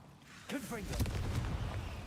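A Confringo blasting spell in Hogwarts Legacy goes off after a short spoken call, giving a single deep booming explosion that rumbles and fades over a second or so.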